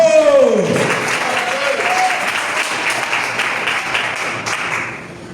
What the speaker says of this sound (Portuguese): batam palmas para Jesus